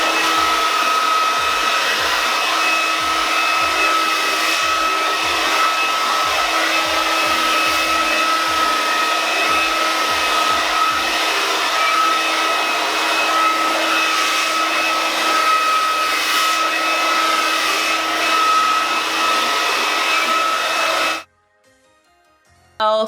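A hair dryer roars steadily while blow drying natural 4b/4c hair during a silk press blowout, a loud continuous whir lasting about twenty seconds before cutting off abruptly, with no talking.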